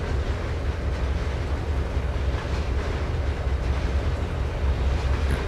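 A BNSF freight train running in Trainz 2022: a continuous, loud, low rolling rumble with faint rail clatter, steady throughout and with no voices.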